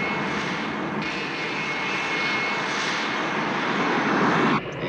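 An airplane's engines roar loud and close during the takeoff roll, a sustained powerful drone with a steady whine that swells slightly before a brief drop near the end.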